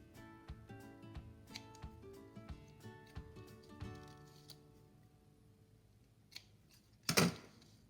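Scissors snip paper while eyebrow shapes are cut out for a cat craft, a rapid run of close, crisp clicks followed by a louder rustle near the end.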